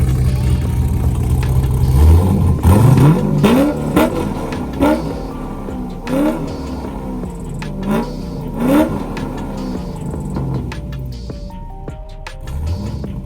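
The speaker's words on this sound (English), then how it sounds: "First, we're gonna try park and rev, and then we're gonna try neutral and rev." Corvette engine revved in park, a series of sharp throttle blips rising and falling over a rumbling idle, loud and nearby, roughly eight bursts spaced unevenly, no speech.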